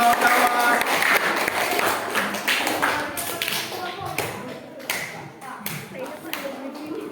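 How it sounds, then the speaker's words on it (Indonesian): Audience clapping for Marisa and her group at a teachers' coaching-based academic supervision practice session, a lively patter of many hands with sharp individual claps standing out, fairly close and steady before thinning toward the end, with some voices mixed in. "tepuk tangan untuk Marisa dan kawan-kawan"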